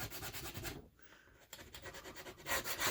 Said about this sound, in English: We just start scraping it off.